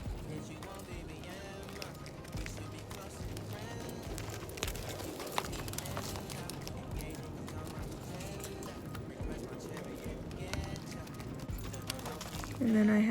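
A barrel horse in training lopes around an arena, its hoofbeats forming a steady rhythmic clip-clop that stays fairly loud throughout, with a person talking over it.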